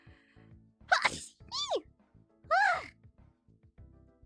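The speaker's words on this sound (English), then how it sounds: "I sneezed." A person sneezing in a quiet room, a couple of strained, breathy bursts with rising and falling vocal tones, close to the mic with faint background hum between them.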